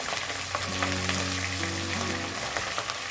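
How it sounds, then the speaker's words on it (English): Ginger garlic paste and slit green chilies sautéing in a hot pan, a loud, steady sizzle with crackling spatters and a faint background hum. "Saute until the raw smell of the ginger and garlic disappears."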